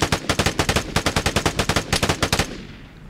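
Rapid bursts of gunfire in the game Vigor, about two dozen loud shots in a steady rhythm, then stopping abruptly with a fading tail.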